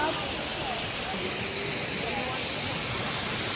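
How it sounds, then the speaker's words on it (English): Waterfall in the tropical rainforest biome at the Eden Project, a steady broad rushing roar of falling water that holds constant and fills the whole clip with dense hiss. "We made it to the waterfall."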